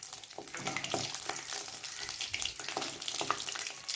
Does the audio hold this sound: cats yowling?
no